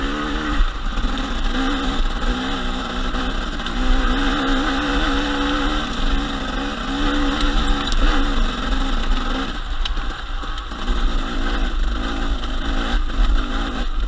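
A KTM 250 XC-W enduro motorcycle rides a single-track trail in first and second gear, its engine buzzing and revving continuously up close with no talking.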